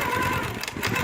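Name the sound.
longarm quilting machine stitching feather fill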